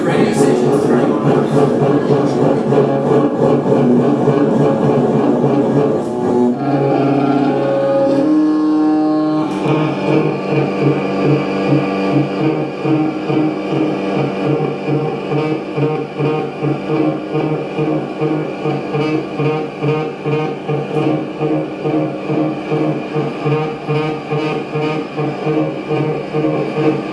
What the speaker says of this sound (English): This is the sound of a bunch of radio stations turning on.